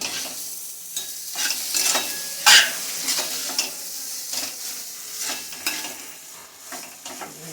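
A sandwich filling seasoned with red chili powder is lightly sautéed in a pan, with steady stirring scrapes, a soft sizzle and a sharp metallic clink of a utensil against the pan partway through.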